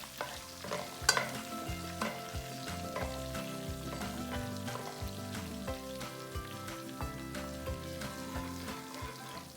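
Chili powder fries in hot oil in a wok for Kung Pao chicken, giving a steady sizzle with light stirring scrapes under continuous background music.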